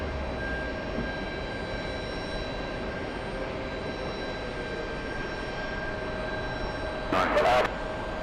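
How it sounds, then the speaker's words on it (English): A Delta jet airliner takes off from runway 22 right, its engines a steady distant roar that stays broad and even, with tonal hums from nearby equipment and a brief burst of noise near the end. "Delta 680, runway 22 right, clear takeoff."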